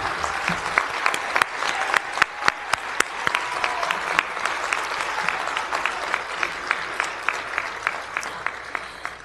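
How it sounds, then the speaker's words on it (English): Graduates at a Columbia graduate school MA commencement applaud in a long, steady round of crowd clapping with sharp individual claps scattered throughout, fairly close and filling the whole stretch without talk. "Please give yourselves a round of applause for all the hard work behind your success and achievements."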